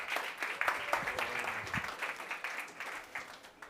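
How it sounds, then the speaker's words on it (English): A conference audience claps for the panelists of a decentralized finance talk in a brief burst of applause with dense, moderately close hand claps that hold steady and then taper slightly. "Just give them a round of applause."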